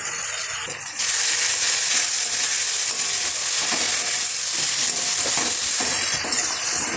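Ground cumin, ginger and coriander pastes with turmeric powder fry in a pan while being stirred, making a loud close sizzle with scraping and clicking of the utensil against the pan.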